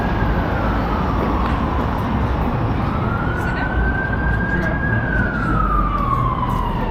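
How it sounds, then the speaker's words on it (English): An emergency vehicle siren wails along a city street in Bath, England, a rising and falling tone sweeping slowly over steady traffic and street noise, moderately distant and continuous. "I hear the siren"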